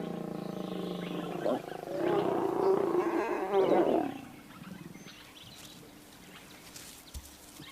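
Lions of a pride in Kruger roar outdoors, a deep rumbling roar swelling for a couple of seconds and then fading into quiet ambience.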